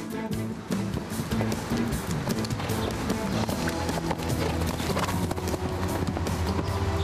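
Horses of a city mounted police patrol in the capital clop along the street in a steady, close rhythm of hoofbeats over constant outdoor background noise.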